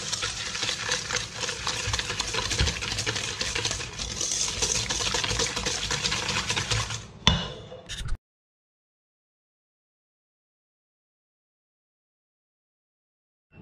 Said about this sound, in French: Et on a juste à fouetter.